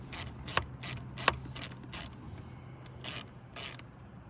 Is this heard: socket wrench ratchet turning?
yes